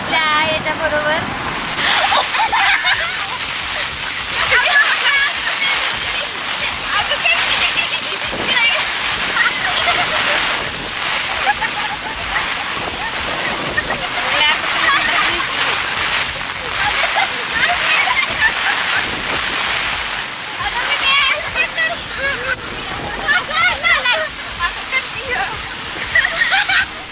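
Heavy floodwater rushing after the first big rain of the season near the Warna and Krishna rivers, a loud, steady roar of churning, splashing water filling the whole stretch, with people talking over it.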